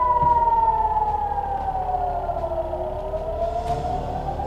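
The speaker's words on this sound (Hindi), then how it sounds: "आपसे बात करते समय हमने सायरन की आवाज सुनी थी और अब आप आवाज सुनिए" A wailing air raid siren in Israel during a Hamas attack rises and falls steadily, loud and continuous with layered tones, over a low rumble of background noise.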